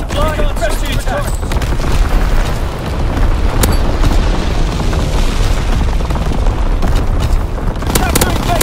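Artillery strike explosions in the World War II shooter Call of Duty WW2, a dense continuous barrage of booms and blasts, loud and close, with game announcer voice lines layered over the din.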